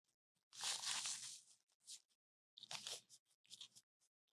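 Crisp crunching bites into a sandwich, up close and fairly loud, in two main bursts with short chewing crackles between and no talk.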